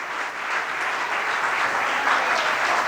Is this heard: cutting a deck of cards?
no